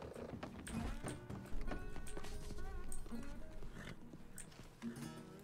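Horse hooves clip-clopping in the Red Dead RedM video game, a rider galloping away at a steady rhythm, moderately loud under background game ambience and intermittent talk.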